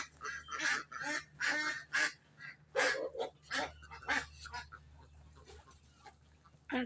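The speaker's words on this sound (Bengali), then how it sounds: "কিছু কিছু হাঁস এইভাবে মানে চিৎকার চেঁচামেচি করে, মনে হয় যেন কোনো কিছু আসছে" Ducks by a village pond squawk and quack loudly in a run of harsh, closely spaced calls, followed by a quieter stretch and one last cry.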